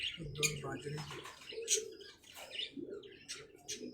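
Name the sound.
pigeons flying in and cooing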